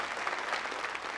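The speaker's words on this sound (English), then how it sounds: "Give yourselves a round of applause." Graduates applaud at their graduation ceremony, a dense, even burst of many hands clapping at once, loud and close for about a second.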